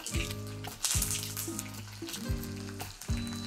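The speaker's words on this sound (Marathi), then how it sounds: "तर आता आपण फोडणी घेऊ. सर्वात पहिले आपण मोहरी टाकू, जिरं टाकू" Mustard seeds, cumin, chillies and curry leaves are tossed into hot oil as a tempering for potato raita, giving repeated sharp bursts of crackling sizzle, each loud at first then fading, close and without speech.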